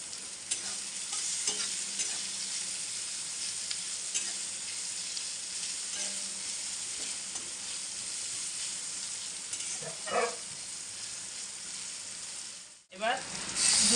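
Sliced onion sizzles steadily in hot oil in a pan where fish has just been fried, with a few scraping stirs of a spatula and brief muffled handling near the end.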